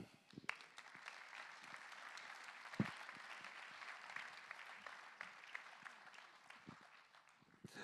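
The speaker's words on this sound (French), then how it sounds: "Là aussi, applaudissements pour eux." An audience at an entrepreneurs' convention in a hall applauds steadily, a dense, moderately distant wash of clapping with no talk.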